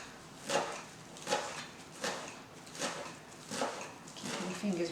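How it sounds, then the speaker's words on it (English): A knife chops parsley on a board in a steady rhythm of about six crisp, close knocks spaced under a second apart, with quiet background between strokes. "now we'll get back to chopping our parsley"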